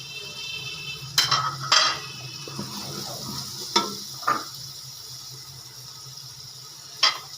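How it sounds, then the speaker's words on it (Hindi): Spices sizzle and crackle as they roast in a hot pot for kadhi pakora, broken by a few sharp scrapes and clinks of a spoon stirring, with no talking. "सारे मसाले डाल के अच्छी तरह इसको भूनेंगे"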